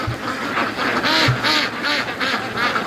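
A flock of free-range Muscovy ducks quacks in a steady, rhythmic chorus outdoors, repeated loud calls overlapping closely on a busy background.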